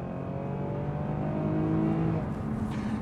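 A Lexus GS350 4WD sedan accelerates, its engine note droning steadily and climbing in pitch over a few seconds, heard from inside the car with continuous road rumble and no talk.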